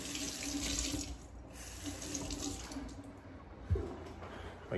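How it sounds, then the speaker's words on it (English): Vegetables are washed under a running kitchen sink tap, giving a steady, close rush of water with soft splashing and a small knock near the end. "So we want to wash all our vegetables."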